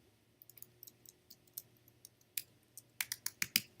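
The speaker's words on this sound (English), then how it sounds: "So let's add text, and we'll type in Guys Night." Typing on a computer keyboard: a quiet string of light, irregular key clicks that speeds into a quicker burst near the end, with no speech.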